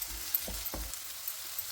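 Green chillies sizzle in hot oil in a pan for a chicken curry, a steady close hiss with a couple of soft stirring bumps.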